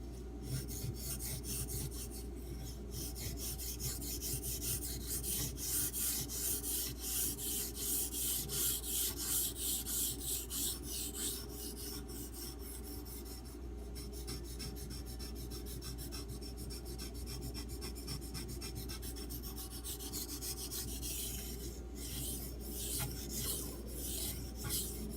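A D2 steel knife blade is stroked across a fine Arkansas water stone, giving close, continuous rasping and scraping in steady back-and-forth rhythm.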